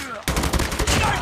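Gunfire in the mobile shooter game Call of Duty Mobile, a sudden loud shot followed by a rapid run of repeated bursts, close and dense, with no speech over it.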